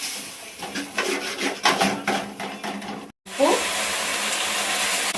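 A spoon scrapes and rubs through a cornflour mixture for gobi manchurian gravy inside a bowl, giving a close, steady swishing with soft clinks. It stops briefly, then comes back. Someone speaks faintly underneath.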